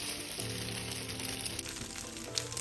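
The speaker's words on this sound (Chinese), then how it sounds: "加入果饺块，用中火煎至四面略焦。" Rice cake pieces frying over medium heat in oil in a non-stick pan, giving a steady, close, moderately loud hiss and crackle that runs without a break and carries no talk.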